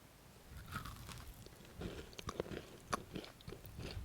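Someone bites into a homemade matcha white chocolate cookie with a crisp outside and chewy inside, giving soft, close crunches and quiet chewing, faint and irregular.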